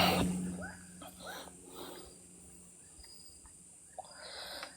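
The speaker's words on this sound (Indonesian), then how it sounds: "Bunyi katak." Frogs call on an oil palm hillside at Bukit Tebongon, Kota Belud, Borneo: a few short, moderately loud croaks spaced a second or so apart, over a steady insect hum and faint background noise.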